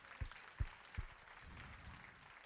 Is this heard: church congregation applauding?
yes